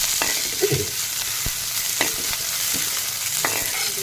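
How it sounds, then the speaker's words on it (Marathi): Chopped onion frying in oil while being stirred for a prawn masala, a steady broadband sizzle with scattered scraping stirs and clinks of the spoon, close and fairly loud, no voices. "कांदा आपण छान असा तेलामध्ये खाली करून घेऊया"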